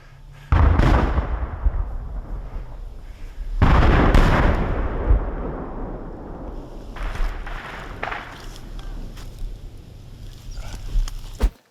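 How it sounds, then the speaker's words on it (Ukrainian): Several loud bursts of gunfire crack nearby, followed by scattered shots and rumbling over a noisy outdoor background. "чуєте, стріляють, це вогонь якраз по нас"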